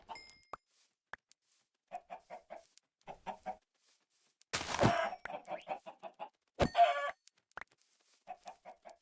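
Minecraft chickens cluck in short repeated bursts, with two louder, noisy flutters or thumps breaking in midway; the clucks sit clear and fairly close against a quiet background.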